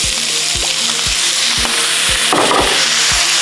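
Fish sauce hits a pan of frying potato and vegetables with a loud, continuous sizzle, while a utensil taps and scrapes the pan at a regular rhythm and a brief louder hiss flares near the end.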